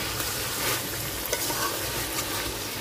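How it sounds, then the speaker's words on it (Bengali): Chicken, a free-range country bird, sautéing in a pan with nutmeg and mace, stirred with a steady close sizzle and soft scraping for a few seconds, no talk. "হালকা কষাই নিচ্ছি, ঢাকা দিয়ে দিয়া ভালোভাবে কষাই নিই।"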